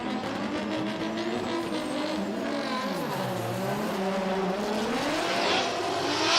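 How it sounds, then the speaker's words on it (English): Formula Drift cars at Ebisu Circuit in Japan, a Toyota GR86 and a BMW E92, scream past in tandem with loud sustained engine roar, shifting revs and tire squeal, close and continuous. "Sobagiri in the Shibata Racing Yokohama GR86, and you got Takahashi in that TMS Racing Team Silent Tire E92 BMW"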